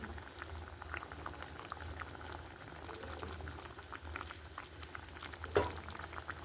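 Mustard chicken curry with warm water just added simmers in a pot, a steady low bubbling and crackle carrying through the whole stretch, with one brief louder clink near the end.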